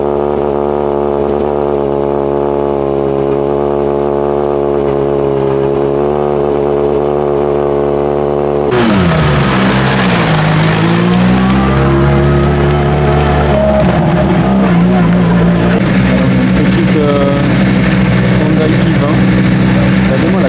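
In a video game, a steady engine idles with a deep, even hum, then several rally car engines rev and roar together, loud and close, with shifting pitch.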